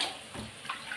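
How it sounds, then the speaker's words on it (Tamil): Tamarind water is poured into a kadai, making a brief, faint splashing trickle of liquid that lasts about a second. "இப்போ புளியை ஊற்ற வேண்டியதுதான் கடாயில்."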